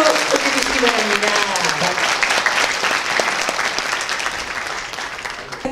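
A seated crowd at an organization's vision proclamation ceremony breaks into loud, sustained clapping, a thick continuous patter of many hands that stays strong throughout and tapers only gently, with a faint tonal sound beneath it at the start.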